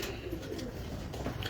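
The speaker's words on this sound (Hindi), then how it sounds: "लास्ट जो कबूतर आए हैं।" Soft, low cooing from racing pigeons in a loft murmurs in the background, faint and muffled, with a steady low rumble underneath.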